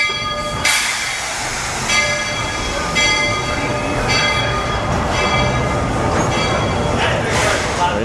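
A Walt Disney World Railroad train rolls in with a steady rumble and clatter of wheels, sharp repeated squeals and bell-like rings cutting through, close and loud, while people talk nearby.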